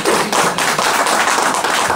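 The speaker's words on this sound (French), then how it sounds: "applaudissez pour les femmes" A crowd at a citizens' meeting in Poitiers, France applauds loudly and close, with brisk dense clapping that carries evenly throughout.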